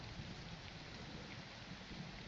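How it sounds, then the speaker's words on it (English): Steady rain ambience in the Elderwynn the Lost Kingdom game, a dense continuous hiss of falling rain with a low rumbling undertone, even and unbroken with no talk. "I hear the rain"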